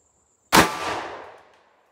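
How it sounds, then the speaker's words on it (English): A Ruger GP100 .357 Magnum revolver firing a 158-grain cast, powder-coated bullet fires a single sharp shot followed by a fading echo of roughly a second. "This is the Ruger GP100 with the 158 grain cast powder coat bullet."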